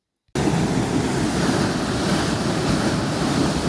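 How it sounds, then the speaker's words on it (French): Mountain torrent roaring beside a road: a steady, loud broadband rush of water that starts abruptly and continues without a break, with no voices. "c'était un bruit de torrent que j'ai enregistré sur la route"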